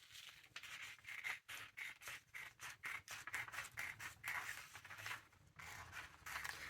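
Scissors cutting out a fabric armhole, a steady series of crisp snipping strokes in an even rhythm, close and fairly quiet with no talking.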